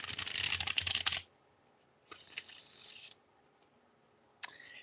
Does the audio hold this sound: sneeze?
no